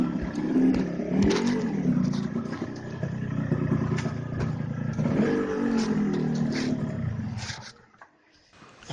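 A Yamaha RX King Cobra two-stroke motorcycle engine revs and growls while riding, rising and falling in pitch through the throttle, then drops away abruptly near the end, with no talking.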